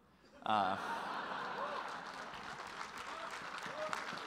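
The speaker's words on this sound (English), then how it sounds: "Crowd really going wild here as Emmett Shear." A crowd applauds and cheers at a staged Battle of the CEOs match, bursting in loudly and then holding a steady wash of clapping and whoops with some laughter mixed in.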